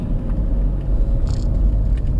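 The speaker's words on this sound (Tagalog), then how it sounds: "gawin natin ulit downshift rev match" A car engine rumbles low and steady nearby, with a brief rise in revs during a rev-matched downshift; no talking.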